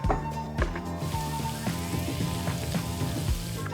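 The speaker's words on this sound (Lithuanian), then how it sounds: "dabar visus šiuos prieskonius sumetame į keptuvę" Garlic, ginger root and chili pepper crackle and sizzle in a pan, with scattered pops and clinks over a steady frying hiss, fairly close.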